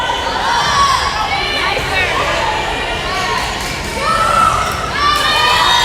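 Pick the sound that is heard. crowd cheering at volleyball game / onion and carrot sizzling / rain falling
crowd cheering at volleyball game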